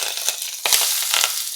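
Curry leaves drop into hot oil while tempering a radish curry, giving a sharp crackling burst and sputtering sizzle for a second or so, close and fairly loud.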